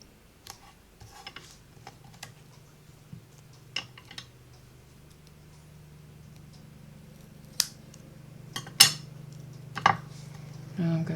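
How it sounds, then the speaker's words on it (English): Scissors snipping through a piece of material in a few scattered, quiet cuts close by, over a low steady hum from a lawnmower running outside. "I'm going to cut a piece that's a little bit longer."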